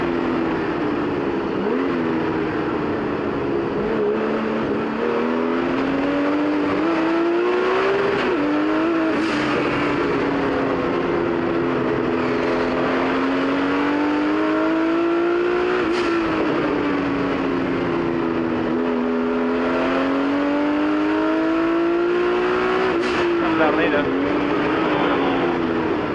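A 1979 Porsche 935 and other vintage race cars scream around the track at a historic race reunion, engines rising and falling in pitch through gear changes and passes over nearly half a minute, with commentary talk underneath.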